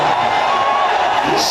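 A dense cricket stadium crowd in Hamilton roars steadily for Sehwag's century in an India versus New Zealand one-day match, a loud, continuous wash of voices with a whistle or shrill cheer near the end.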